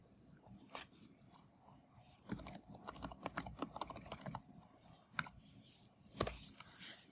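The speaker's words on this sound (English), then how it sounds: "now I'm going to type my username" Keys clatter on a computer keyboard as a username and password are typed, in quiet bursts of rapid strokes with short pauses between, close and fairly soft throughout.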